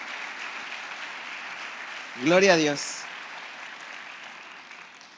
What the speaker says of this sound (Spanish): ¿Por qué no le doy un aplauso nuevamente a nuestro amado Rey?